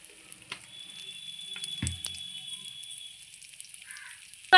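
Pieces of sojikochu (taro) fry in oil in a pan, a faint, soft sizzle running throughout with a few light clinks and stirring knocks, one louder thump near the middle.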